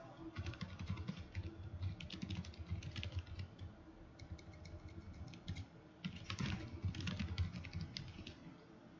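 Fingers tap quietly on a computer keyboard in quick, uneven bursts of clicking keystrokes, with short pauses between runs. The sound is faint and close, with no voices.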